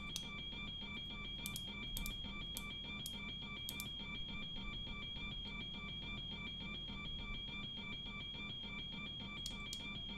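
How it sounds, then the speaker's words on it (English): Repeating electronic cockpit warning chime in an airliner flight simulator game with a dead APU and battery discharge fault, a steady high tone pattern sounding continuously under a low engine-like hum. "I can't stop that bloody alarm"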